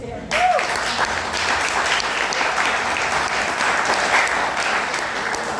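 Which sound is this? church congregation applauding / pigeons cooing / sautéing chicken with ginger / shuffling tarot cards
church congregation applauding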